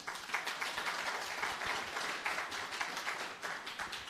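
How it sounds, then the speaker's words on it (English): Sustained applause from a conference audience at a Central Bank export week session in Curaçao: dense, even clapping that holds steady for about four seconds at moderate volume. "Big round of applause."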